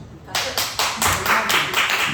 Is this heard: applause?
yes